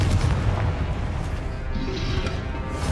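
The Confringo fire-blast spell is cast in the video game Hogwarts Legacy, producing loud, continuous rumbling booms and blasts that roll on without a break, with no clear talk over them.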